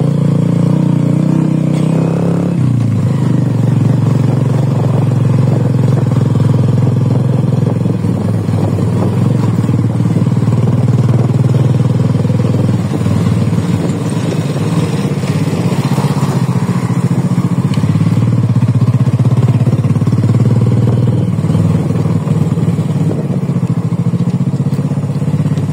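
A modified motorcycle engine runs loud and close for the whole stretch, a rough steady drone with slight rises and falls in revs, rattly and continuous with no voices over it.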